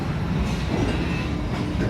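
Cedar Point & Lake Erie Railroad amusement park train running, a steady close rumble of wheels on track with faint clatter and a brief squeal, continuous and loud.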